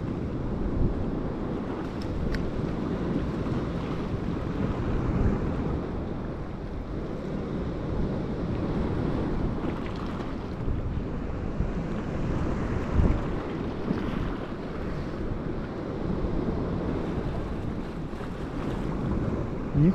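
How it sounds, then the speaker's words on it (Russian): Strong wind gusts buffet the microphone at sea during sea fishing off Crimea, with low roaring rumble and water sloshing beneath, continuous and unsteady. "Хоть бы ветер утих, а."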